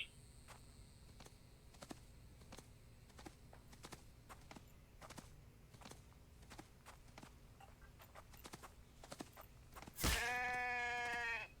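A sheep in The Infected game lets out a loud, wavering bleat near the end, after a long stretch of faint ambience with soft clicking steps.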